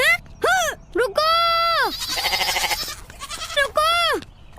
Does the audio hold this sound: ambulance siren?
no